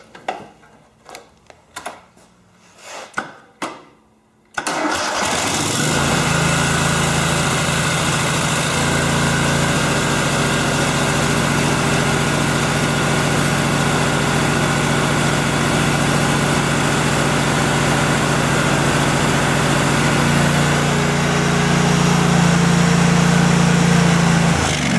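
A Kohler small engine fitted with a valve-cover-mounted mechanical fuel pump, just repaired, catches after a few quiet clicks and handling sounds, then runs loud and steady at a constant idle close to the microphone with no talk.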